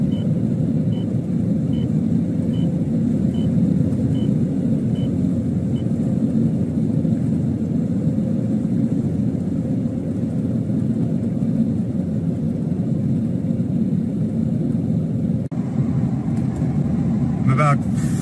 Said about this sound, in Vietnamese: Still heading south, as you can tell. Northbound is jam-packed. There's four lanes.